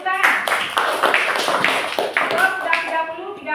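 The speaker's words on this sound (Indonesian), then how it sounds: "Tepuk tangan." Classroom clapping in an inclusive class lesson, a burst of hand claps running about three and a half seconds with children's voices and chatter mixed through it.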